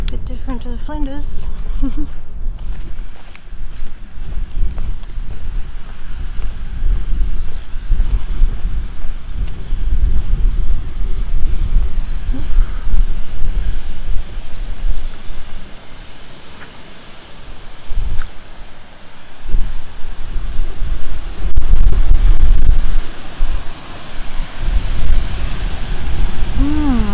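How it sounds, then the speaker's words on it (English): Steady wind buffets the microphone on a coastal walking trail near the ocean around Waitpinga in South Australia, with a continuous broadband rush that may carry distant surf, loud and unbroken throughout. "Ocean."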